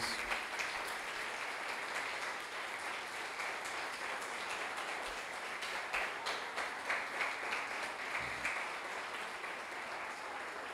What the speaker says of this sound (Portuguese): Você pode dar um aplauso ao Senhor por tudo aquilo que Ele já fez.